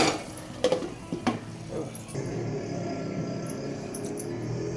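A metal lid clatters onto a cooking pot of simmering cluster bean (gavar) curry with crushed peanuts, two sharp clinks near the start, then a steady low bubbling hiss beneath.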